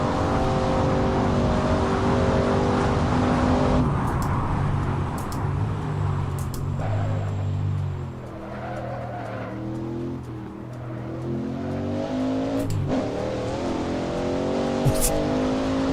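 Racing car in the Assetto Corsa driving sim, engine howling at high revs, then dropping and climbing through gear changes with brief tyre squeal, continuous and loud, with someone talking over it.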